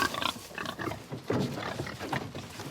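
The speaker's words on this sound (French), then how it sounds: "le cochon, symbole de l'élevage intensif en Bretagne" Pigs on a Breton livestock farm grunt and snort in a continuous, overlapping chorus, moderately close and fairly quiet, with no talking.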